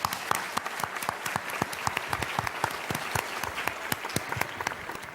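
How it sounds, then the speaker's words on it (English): An audience at a conference applauds warmly, with dense, steady clapping from many hands sustained throughout, fairly loud and unbroken by speech. "Let's welcome Professor Lin with a warm applause."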